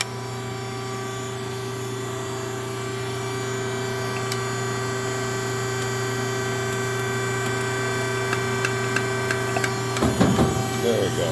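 Scotchman Ironworker Model DO95/140-24M machine running, a steady loud hum with a tonal whine that stays even throughout, a brief clatter near the end.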